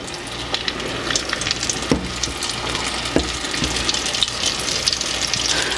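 Floured, egg-washed pieces fry in hot fat with a loud, steady crackling sizzle and scattered pops and light clicks throughout.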